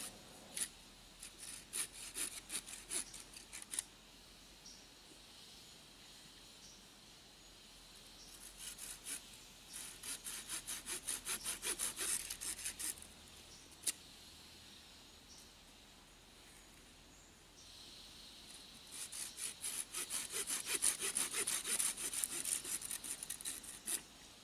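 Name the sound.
sawing wood into pieces for stakes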